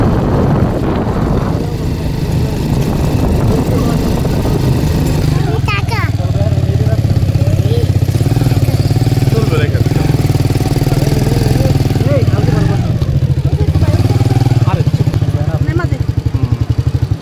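Motorcycle ride along the Marine Drive road at Inani beach near Cox's Bazar, the engine droning steadily and close throughout, with people talking over the ride.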